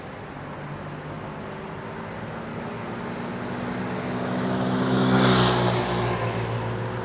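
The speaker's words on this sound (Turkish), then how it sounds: "Şu an arabalar geliyor arkamdan." Cars passing on a road behind a person testing a mini lavalier microphone outdoors, a steady traffic rumble swelling as one vehicle approaches and rushes by, then easing off.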